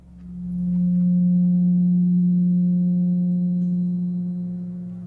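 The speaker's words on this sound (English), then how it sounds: "let's listen to what the 180 total degrees contained in a triangle sound like" A steady pure tone near 180 cycles per second, representing the degrees of a triangle, holds alone for about five seconds, fading in at the start and easing off slightly at the end.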